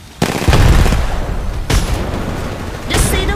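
Gunfire in the Apex Legends Mobile video game: loud, close bursts of shots in three clusters, each sharp onset followed by rattling decay, with no talk over it.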